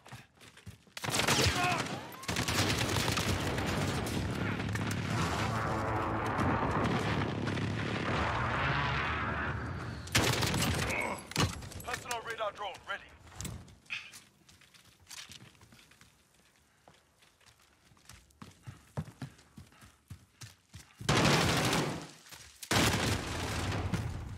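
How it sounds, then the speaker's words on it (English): Explosions from a precision airstrike in Call of Duty: Modern Warfare, heavy booming blasts and rumbling fire in loud bursts with scattered gunshots and aircraft noise, then quieter stretches before another blast. "Precision airstrike inbound. Take cover."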